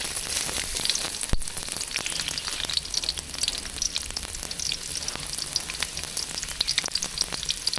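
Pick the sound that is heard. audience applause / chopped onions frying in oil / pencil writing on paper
chopped onions frying in oil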